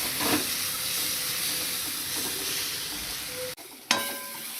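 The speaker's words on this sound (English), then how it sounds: "Saute it for 2 to 3 minutes." Green chickpeas with salt sauté in a hot pan, giving a steady close sizzle and hiss with occasional stirring scrapes, then a sharp clatter near the end.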